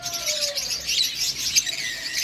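An opaline lovebird pair and other cage birds at a bird dealer's give bright, busy chirps and tweets, a dense continuous chatter close by.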